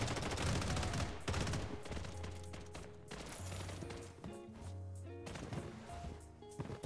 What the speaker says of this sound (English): Who's still shooting?